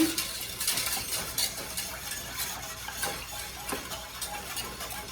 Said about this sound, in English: Let me get my whisk. And we are gonna mix up what's in here.